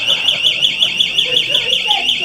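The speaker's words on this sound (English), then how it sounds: "set off the fire alarm in celebration" A fire alarm goes off at a venue hosting the Albury Open grand final, a loud, steady electronic tone warbling in rapid regular pulses throughout, with faint voices murmuring underneath.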